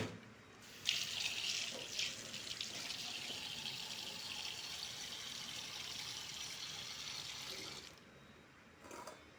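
Cassava (tapioca) is washed under a running tap in a sink, water gushing and splashing steadily for several seconds before the flow stops, quiet and close.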